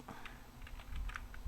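Soft keystrokes on a computer keyboard, a quick uneven patter of light clicks over low room hum.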